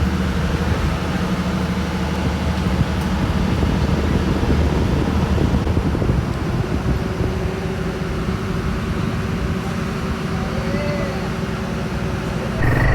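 A large ferry's engine room on the Konkan coast of Maharashtra gives off a loud, steady machinery drone with deep, constant low hum and broad roaring noise, sounding close and unbroken throughout.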